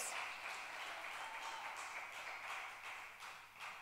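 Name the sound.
weak applause from a church congregation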